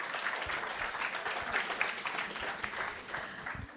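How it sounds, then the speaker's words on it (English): Applause at a hackathon prize ceremony for women in tech, steady broadband clapping from a room of people lasting throughout, moderately loud with no speech over it. "With applause."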